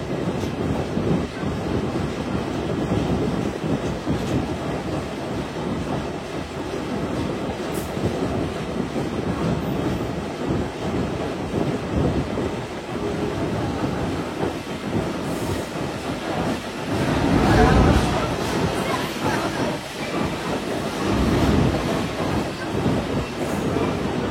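The Nakshi Kantha commuter train rumbles into Padma rail station, with a loud steady roar of wheels and carriages and a few louder surges as it runs in.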